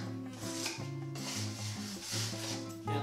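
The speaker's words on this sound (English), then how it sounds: "So I'm just gonna grab this mud, just gonna mix it a bit and turn it around." Drywall joint compound mud, taken straight from the box, is stirred and turned over with a tool, giving a soft, continuous rubbing and scraping texture that is close and fairly quiet.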